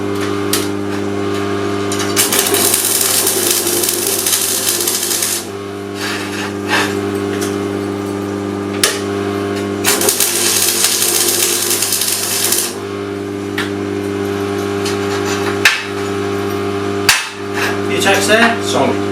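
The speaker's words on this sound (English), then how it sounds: "I'm now going to show you how simple it is to weld up your gift. Just a few tacks each side" Tack welding of steel pieces for a small sculpture, with bursts of crackling arc noise over a steady electrical hum, several separate tacks starting and stopping, close and fairly loud, with occasional sharp knocks between.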